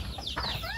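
Chickens cluck and chirp briefly nearby on a rural farm, with a faint higher bird call and outdoor ambience.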